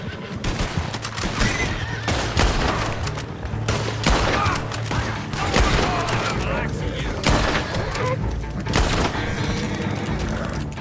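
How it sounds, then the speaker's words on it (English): Enemy gunfire in Red Dead Redemption 2 Online, with repeated bursts of shots over nearly eleven seconds, mixed with horse whinnies, hooves and crashes, loud and dense throughout. "Oh, they're shooting at me now."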